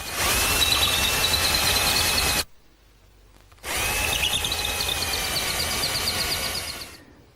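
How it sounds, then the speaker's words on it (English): Power drill boring holes through a clamped hardwood jig in a woodworking shop, two loud whining bursts separated by a brief quiet gap, close and with no talking. "I just clamp it in place and drill the holes."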